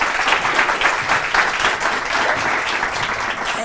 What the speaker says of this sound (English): please join me in welcoming, with a thunderous applause, Dr. Ganesha Kaur.